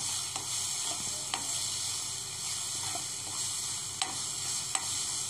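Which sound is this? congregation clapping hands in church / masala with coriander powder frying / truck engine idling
masala with coriander powder frying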